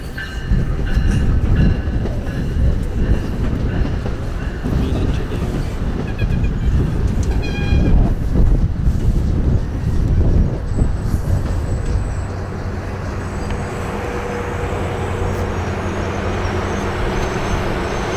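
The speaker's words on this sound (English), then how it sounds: "Finally, the train of the day would make its presence known." Norfolk Southern freight train NS 212 from Atlanta approaches Croxton Yard with a loud, steady rumble and rhythmic rail clatter close by, easing slightly in volume toward the end.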